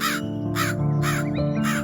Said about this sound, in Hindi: उसके पास कालू कौवा आया और बोला